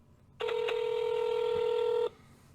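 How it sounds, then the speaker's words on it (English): A single steady dual-tone telephone dialing signal sounds loud and close for under two seconds, made while placing a call to the St. Louis Park police in Minnesota; no voices. "All right, we're calling St. Louis Park Police."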